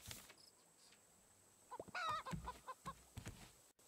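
Chicken in a video game clucking after laying an egg, a quick run of soft clucks and squawks rising briefly before fading, heard at low level.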